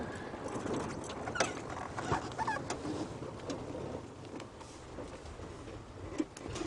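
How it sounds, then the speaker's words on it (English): A white-browed scrub robin calls far off from thickets during a sunrise safari drive, its short, faint chirps thin and scattered over a soft outdoor hush. "Hear a white-browed scrub robin calling, but quite far off."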